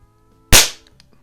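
A single sharp shot from a rare Crosman 147 .177 self-cocking pellet rifle, a loud crack with a short decaying tail, then quiet.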